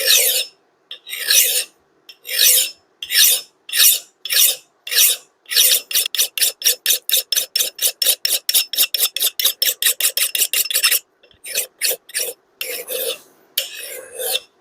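A hand file rasps across an axe head during sharpening, loud and close, in repeated strokes that start slow and spaced, speed into a rapid even rhythm, then slow again.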